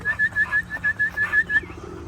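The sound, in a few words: racing pigeons cooing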